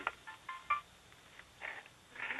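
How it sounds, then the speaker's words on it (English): A telephone rings during a live talk-radio phone interview, a few short electronic tone bursts that come and go at low level, faint and somewhat distant with no talk over them. "my other phone was ringing, Alex, sorry."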